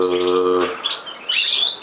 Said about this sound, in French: Ici ce sont 2 jeunes oiseaux